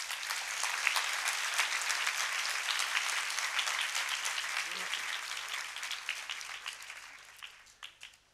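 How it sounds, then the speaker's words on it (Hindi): A church congregation claps during a Palm Sunday homily, a sustained, even round of applause that gradually thins and fades out with a few last scattered claps. "तालियां नहीं बजाओगे?"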